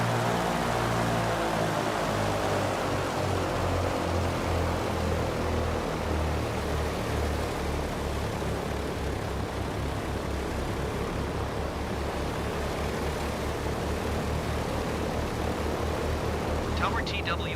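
Douglas DC-3 radial engines spooling up in Microsoft Flight Simulator 2020, a loud, steady, droning propeller roar that builds from a low rumble and holds throughout, close and unbroken.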